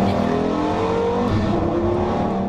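A 2005 Porsche Carrera GT supercar drives past with a steady, loud engine drone and sustained harmonic tones throughout, no pauses or talk.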